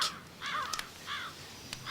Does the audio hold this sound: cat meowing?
no